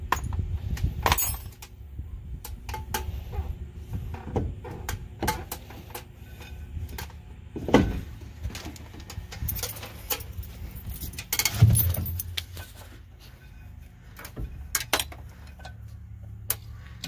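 Metal tools clink and tap while the drive shaft is taken off a pre-war car. The sharp knocks and jangles are scattered and close against a quiet background.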